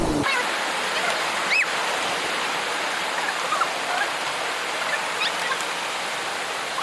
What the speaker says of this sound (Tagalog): Naririnig niyo na ba yung mga bagsak ng tubig?